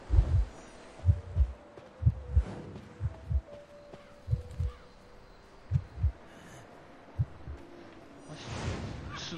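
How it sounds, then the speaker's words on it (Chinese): Heartbeat warning at the start of a ranked match in the Identity V video game, a low thumping pulse in paired beats repeating steadily, with soft ambient hum and brief whooshes between. "开局心跳。"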